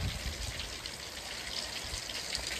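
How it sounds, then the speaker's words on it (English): Steady rain falling outdoors, a continuous even patter and hiss of drops with no breaks and no voices. "It's not raining less."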